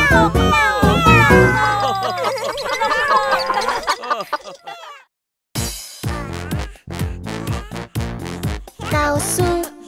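Cartoon cats meow in a dense, overlapping chorus. After a short silence, more distinct meows follow in a loud, close, busy mix set in a children's song.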